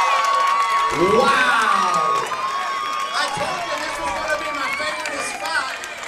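A crowd cheering at a Hardrock MMA fight, loud shouting and whooping from spectators swelling early and then continuing at a steady roar, with a person talking close by over the noise.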